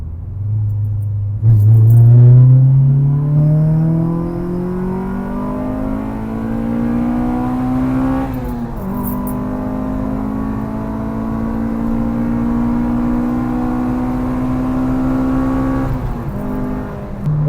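A car with a modified air intake accelerates hard on a private road. The loud engine note climbs steadily through several long pulls, and two gear changes break the rise before it keeps building.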